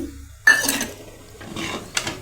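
Sugar tipped by the large spoonful into a pot of hot, simmering milk for no-churn ice cream, a sharp metallic clink of spoon on pot followed by a few softer scraping and tapping clatters, close and fairly loud, no talk.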